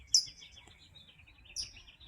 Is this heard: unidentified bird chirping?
yes